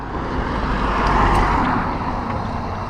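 A 2021 Harley-Davidson Fatboy motorcycle engine fires up and settles into a loud, close, rumbling idle that swells briefly before holding steady.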